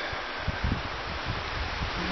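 Wind gusting through timber on a hillside beside a bridge, a steady broadband rush with rustling leaves and low buffeting bumps against the microphone, continuous and fairly loud with no talk.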